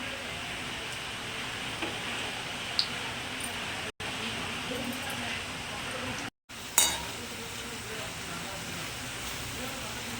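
Mumbai-style vada pav fritters in batter sizzle in hot oil in a pan, a steady, moderately quiet crackle with occasional utensil clinks and stirring, broken by two brief silences and a sharper burst near the end.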